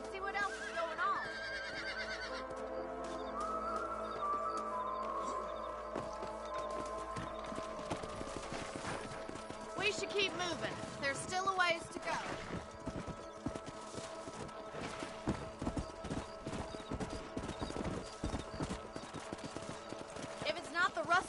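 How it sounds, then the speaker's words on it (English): Horses clip-clop steadily across open ground in the Red Dead Redemption video game, with an occasional whinny, running under a character's spoken lines and game background sounds. "Let's get back on the horses and see what else is going on."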